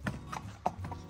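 Horse hooves clip-clopping in a brief, quick rhythm, several hoofbeats close by and fairly quiet.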